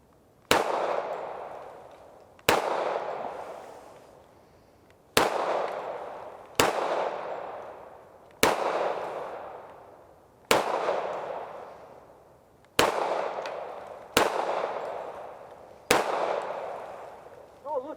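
A Hi-Point JHP .45 ACP pistol fires about nine single shots at uneven intervals of roughly two seconds. Each shot is a loud, sharp crack with a ringing tail that decays before the next one.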